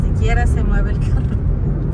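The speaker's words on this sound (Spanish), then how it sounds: "Se mueve el carro" A car drives along a new coastal highway toward Puerto de La Libertad, with a steady low road and engine rumble filling the background while a person talks over it.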